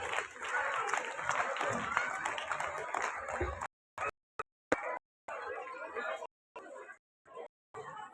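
Students clapping for prize winners at a school New Year event, a lively patter of applause mixed with crowd chatter that breaks into short bursts and gaps in the second half.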